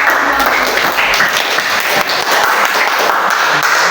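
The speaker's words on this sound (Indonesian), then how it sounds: "mari kita memberikan aplaus bagi peserta" A dense, steady round of applause from a classroom crowd, loud and continuous for several seconds with no break.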